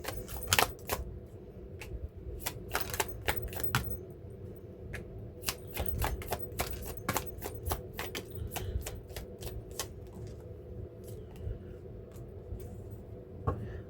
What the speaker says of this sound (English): I always shuffle twice